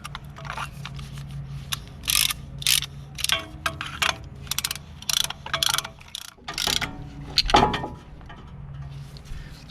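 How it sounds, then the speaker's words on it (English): A brake caliper tool being ratcheted to compress the caliper pistons during a brake job on a 2014 Ford F150, giving a run of rapid mechanical clicks in bursts, close and fairly loud, with a brief louder knock near the end. "and ratchet it."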